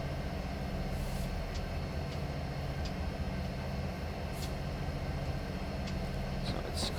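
A diesel locomotive in Train Simulator hauls empty coal hoppers along the Alaska Railroad, its engine a steady low drone and rumble with faint squeaks and clanks on top, continuous and unbroken.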